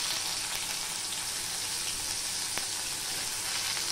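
Chopped onion and green chili fry in hot oil after black cumin seeds, a dense, even sizzle that holds steady and close with no talking.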